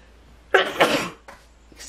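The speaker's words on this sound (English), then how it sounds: "I got a sneeze that is coming." A single sharp sneeze bursts out, with a short wind-up and a quieter follow-up breath, close and loud against a quiet room.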